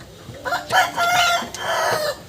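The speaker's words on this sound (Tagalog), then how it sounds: "Maingay ang manok." A rooster crows loudly nearby while chickens cluck around it, a short burst of overlapping fowl calls with no talking.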